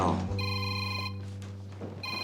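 A stolen mobile phone rings in a room with a steady electronic telephone ring, sustained tones pulsing through the whole stretch, close and clear with faint voices underneath.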